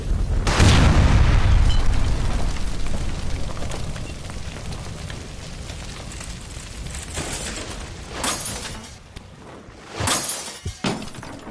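A gas line blows up in the crime game L.A. Noire: a loud explosive boom with shattering debris opens the clip, then a long rumbling roar fades under game ambience, with sharper bangs and crashes near the end.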